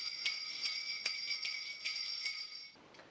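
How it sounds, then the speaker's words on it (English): A shaken set of sleigh bells jingles in a steady pulsing rhythm of bright metallic bursts, close and clear, then stops abruptly near the end. "We've also got sleigh bells."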